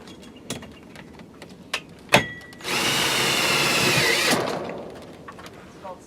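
A screw gun drives a self-tapping screw into an aluminium awning bar while fitting a Somfy LED light kit receiver, a loud whirring run of about two seconds after a few sharp knocks and handling clicks, then quieter rustling.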